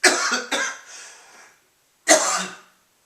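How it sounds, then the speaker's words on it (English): Two quick coughs close together, a pause, then a third cough, all close and fairly loud, with no talking. "I should edit the cough out of my video"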